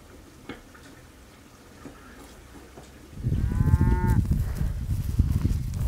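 A cow at a mountain farm lets out a single loud, close moo partway through, over low rustling and shuffling farmyard sounds.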